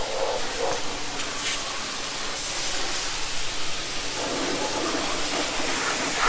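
Water spraying over parts in a steady, hissing wash, a continuous broadband rush that holds at an even level throughout with no talk, during custom exhaust work on a G35.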